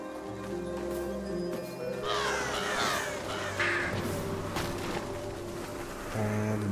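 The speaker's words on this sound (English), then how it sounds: "Lone birds." Crows caw in the video game Prince of Persia: The Lost Crown, several harsh calls heard at a moderate distance over a steady low game ambience.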